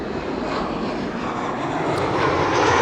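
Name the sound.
Boeing 787 Dreamliner arriving at Amsterdam Schiphol Airport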